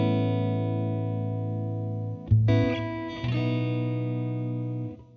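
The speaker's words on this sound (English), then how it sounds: "we're going to stick on a little bit of reverb" A sustained electric guitar chord through a Fractal KLON effect rings out with a lush, lingering plate reverb tail, then a brief strum change and another held chord fading away.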